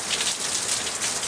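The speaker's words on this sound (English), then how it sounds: "It's raining today" Steady rain pours onto a leaking roof, a dense, even hiss of drops with no break, fairly loud and close throughout.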